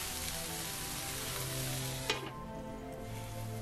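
Zucchinis sizzle steadily in a hot pan for a Turkish-style beef stew, a dense, continuous crackle with a brief clatter midway as pieces are stirred or land, then the frying carries on evenly.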